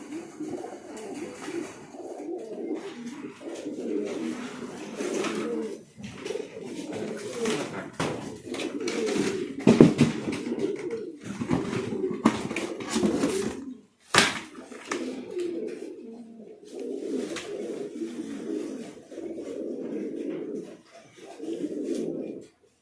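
King pigeons cooing in a loft, repeated low throaty coos rolling on and off up close, with occasional scuffles, wing flaps and faint handling noises between calls.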